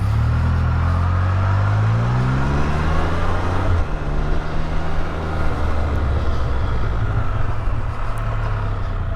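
A VCM F3-T motorcycle being ridden, its engine a steady loud drone with shifting pitch and a clear gear change partway through, heard up close over continuous road and wind noise with no talk.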